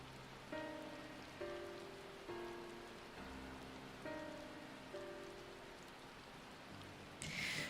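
Rain falls in a fantasy role-playing game, Final Fantasy XIV Heavensward, a quiet steady patter on surfaces beneath a soft melodic game tune of repeating notes, with a brief brighter chime near the end.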